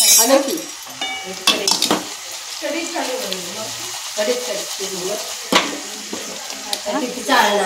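Dal tadka tempering with red chili, salt and hing sizzling in hot oil, with a ladle stirring and clinking against metal pots throughout, loud and close.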